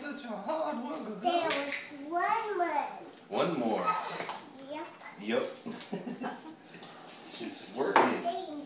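Dishes and cutlery clink and clatter as a young child loads a home dishwasher, the light knocks coming in irregular bursts under near-constant chatter between the child and an adult.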